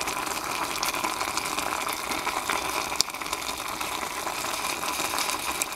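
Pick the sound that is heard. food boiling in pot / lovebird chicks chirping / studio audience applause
food boiling in pot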